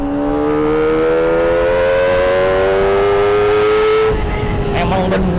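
A Kawasaki ZX-25R four-cylinder on its stock factory exhaust screams at high RPM, the shrill note rising steadily for several seconds before it abruptly drops off and settles back, loud and close.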